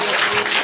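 Dense audience applause at a school gathering in Bidar, Karnataka: a brief, loud wash of many hands clapping together with no voices over it.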